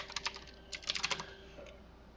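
Light clicking keystrokes on a computer keyboard as a password is entered during setup of an HPE OneView appliance, two short faint bursts of quick taps close by, with no voices.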